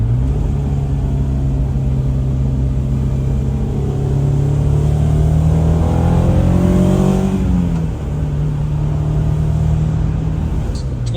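A Honda S2000 engine with a titanium twin-loop exhaust revs up and settles back with a throaty exhaust note, rising in pitch for a few seconds before dropping to idle.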